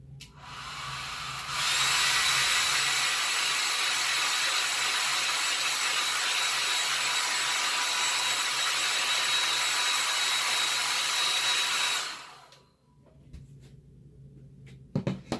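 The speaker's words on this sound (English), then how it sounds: "I'm gonna let you hear how fast I blow dry this" A handheld blow dryer drying freshly applied chalk paint on a Chalk Couture transfer roars loudly and steadily for about ten seconds, then cuts off, followed by faint handling sounds.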